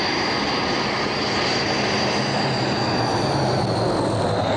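A Transall military transport plane's engines drone loudly and continuously, a close, steady roar with a whining high tone and no pauses.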